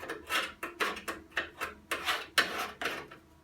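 A scribe scratching a curved line onto the metal of a Classic Mini door skin: about a dozen short, rhythmic scraping strokes, close and fairly crisp, with no speech.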